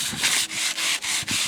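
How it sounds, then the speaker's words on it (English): Rhythmic sanding strokes rasp against a wooden pallet garden bed, a steady back-and-forth scratching in five or six passes with brief pauses between, close and fairly loud. "Now we are sanding down the outside of the bed since it was a little splintery"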